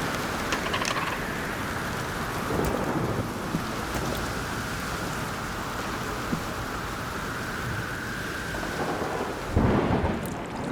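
Heavy rain pours steadily through a thunderstorm, with low thunder rolling underneath and a louder rumble of thunder swelling near the end.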